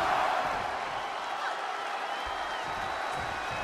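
An AEW Fight Forever wrestling arena crowd cheers and applauds in a steady, dense roar that stays even from start to finish, with light speech mixed in.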